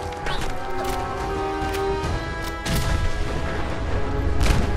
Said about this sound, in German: Hier explodiert irgendwie alles.